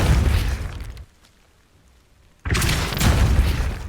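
A Depulso force spell in the video game Hogwarts Legacy lets out a loud, dense blast, then a brief near-silent gap, then another sustained forceful burst, all close and without talk.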